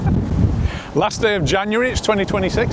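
Strong wind buffets the microphone at Can Pastilla on Mallorca, a broad low roar that runs through the whole scene beneath a person talking up close.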